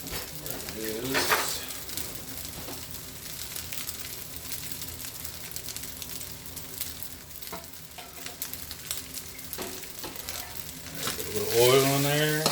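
Oil sizzles steadily in a pan while chicken, fried rice and broccoli are cooked for a big family, a continuous crackling hiss with occasional utensil clinks and someone talking briefly over it.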